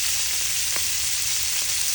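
Shrimp paste frying with pork for pinakbet, a continuous loud hiss of sizzling oil with a few faint stirring scrapes underneath, no talking.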